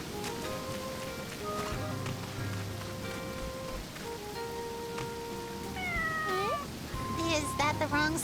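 A cat meows in the video game Sakuna: Of Rice and Ruin, giving a couple of short rising mewls late in the clip over game music and a patter like rain, while someone talks throughout.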